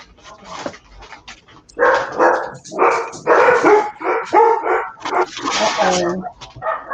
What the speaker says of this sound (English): those dogs sound vicious